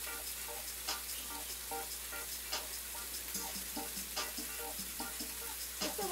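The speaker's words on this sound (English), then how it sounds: "Gotta use a little bit of sunflower oil." Sunflower oil sizzles in a pan, with a steady soft frying hiss broken by frequent small crackles and pops, fairly quiet and close, with no voices.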